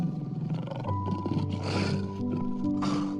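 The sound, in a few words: character imitating a lion roar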